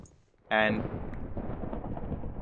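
Loud thunder crack from a lightning storm in Minecraft, a sharp sudden burst followed by a long rumbling roll, with a voice speaking briefly before it.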